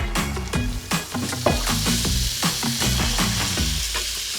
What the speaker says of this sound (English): Right, we're gonna fry our chicken.